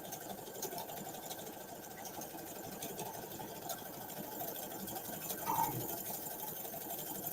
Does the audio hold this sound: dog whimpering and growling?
no